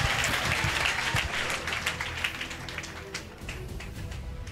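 A church congregation at a prophetic revelation service applauds loudly, dense sustained clapping from a large crowd that gradually thins toward the end.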